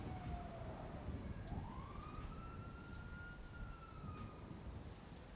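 Several police sirens wailing in a GTA street scene, their rising and falling tones overlapping at a distance over a rumbling backdrop of traffic and engine noise, with no talk.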